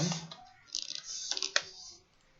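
CSS code typed on a computer keyboard: close, crisp keystrokes in short irregular bursts, a few sharper clicks, then quiet, with no one talking.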